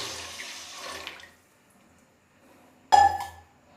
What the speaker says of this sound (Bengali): এই আরেক মুখ পানি দিয়ে দিই